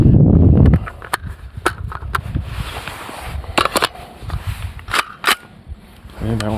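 A round is loaded into a PSA JAKL rifle chambered in 300 Blackout, producing a series of sharp metallic clicks and clacks close up, with scattered handling noise between them.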